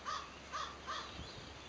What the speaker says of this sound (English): what does that crow want?